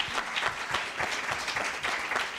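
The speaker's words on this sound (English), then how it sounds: "Can we give our panel members a round of applause?" A seminar audience gives its panel members a short round of applause, a dense, even patter of many hands clapping at moderate distance.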